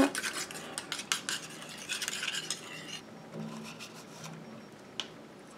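A mixture being stirred in a container with a utensil, clinking and scraping in quick irregular strokes close up, then quieter stirring with a few soft knocks.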